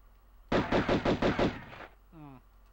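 Pistol gunfire in the Tomb Raider video game rings out as a rapid burst of about six loud shots, followed by a short tonal game sound.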